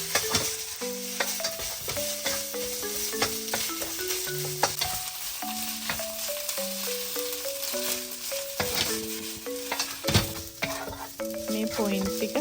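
Egg fried rice is stir-fried in a pan, a steady sizzle with scraping and stirring running throughout, heard under background music.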